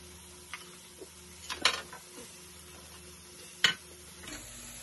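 Tomatoes with cashews and turmeric powder frying in a pan for paneer butter masala, a low sizzle broken by a few sharp scraping stirs and clicks of a spoon against the pan, close and fairly quiet.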